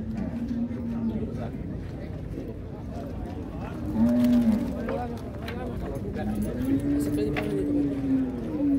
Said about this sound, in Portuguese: A vaca é de qualidade